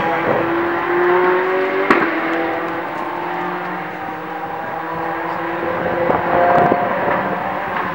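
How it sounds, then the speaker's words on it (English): Scuderia Ferrari Formula One cars in the pit lane, heard as a steady engine drone with a sustained tonal hum and a sharp knock near the two-second mark, loud and continuous with no speech. "Scuderia Ferrari Formula One cars being prepared in the pit lane"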